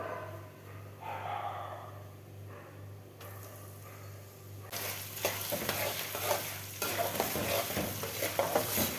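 Garlic and turmeric frying in a pan for a crispy poha snack, quiet at first with a low hum, then a loud sizzle erupts and builds with stirring scrapes and crackles.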